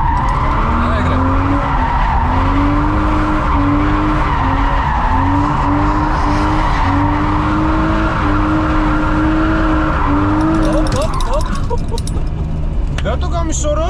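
A car drifting around a course, its tires skidding and squealing continuously over a loud, sustained engine roar for most of the stretch, with voices talking over it.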